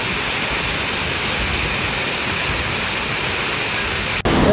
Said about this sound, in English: waterfall number 4